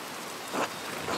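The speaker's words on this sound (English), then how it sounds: "The rain is turning everything to mud." Steady rainfall in the medieval-set game Pentiment, a dense, even hiss of drops on the ground with a slight swell midway, heard alone without any talk.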